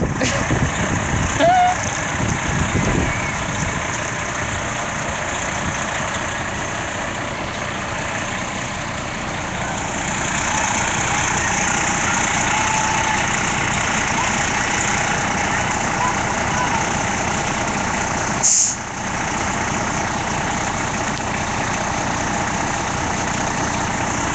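A fire truck's engine idles steadily at a street protest, a continuous low rumble holding at an even level throughout, with faint voices in the background.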